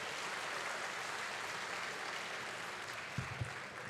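Audience applause at a millets convention valedictory ceremony, a steady dense wash of clapping held at a moderate distance for several seconds, with a couple of brief thumps near the end.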